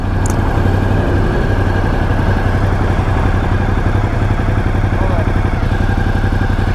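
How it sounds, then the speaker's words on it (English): A Ducati Multistrada 1200 Enduro motorcycle engine runs steadily at idle, a loud, continuous low rumble with a clattering pulse that holds unchanged from start to finish, close by with no talk. "Ducati Multistrada 1200 Enduro Edition."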